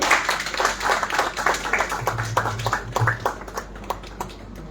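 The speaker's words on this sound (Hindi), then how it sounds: "जोरदार तालियां बजनी चाहिए।" An audience at a Hindi poetry award ceremony claps in a steady, rhythmic burst of many hands, loud at first and gradually thinning out over a faint hum.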